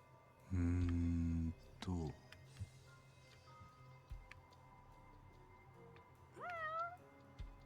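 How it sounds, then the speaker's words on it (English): A cat meows in the video game Judgment, first one long drawn-out harmonic meow, then a short second call and a rising meow later, heard close over quiet game ambience and faint ticking, with no talk. "I hear a cat. Where's my cat?"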